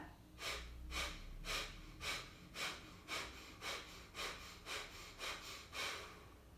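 About eleven sharp, forceful nasal exhales come in an even, quick rhythm during Kapalabhati pranayama yoga breathing. Each is a short, close-up puff of air through the nose, separated by brief quiet gaps.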